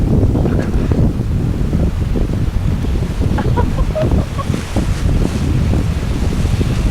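Strong wind blasting across the microphone outdoors on a snowy Scottish hillside, a steady, loud, rumbling roar with gusty fluctuations and no speech.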